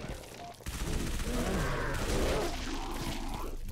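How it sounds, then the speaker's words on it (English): Submachine gun fire in Halo, a dense stream of rapid shots that bursts in after a brief lull and keeps up a loud clattering fusillade over a busy game soundscape. "this SMG just rips them apart"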